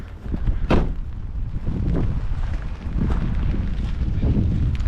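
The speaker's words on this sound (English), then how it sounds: "How windy is this?" Strong wind buffets the microphone in gusty, rumbling waves at a 120-year-old decommissioned military fort, with occasional thumps and no voices.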